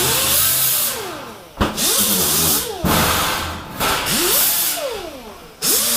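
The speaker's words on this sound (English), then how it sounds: "I want to take and grind both sides to take off the little burr that's left" A power grinder takes the burr off a drilled painted panel, its motor whining in several loud bursts that rise and fall in pitch, with brief drops between passes.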